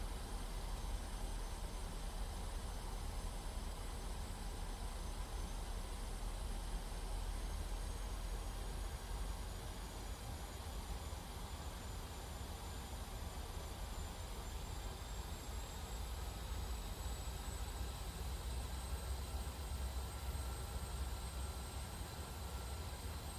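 Boeing 737 engines in a PMDG flight simulator on a Southwest Airlines flight throttle up into a steady, broad roaring drone with a faint rising whine, continuous and even throughout.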